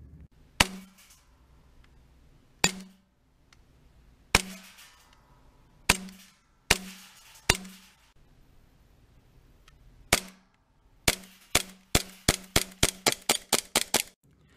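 A custom Hi-Capa airsoft pistol fires a series of sharp, loud snapping shots, first spaced single shots with pauses, then a quick rapid string of about eight shots near the end, close and clear.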